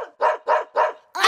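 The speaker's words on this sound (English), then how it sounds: "dog!" A toy keyboard plays a recorded dog bark: three quick, evenly spaced yaps followed by the start of a fourth, loud and close, with nothing else heard.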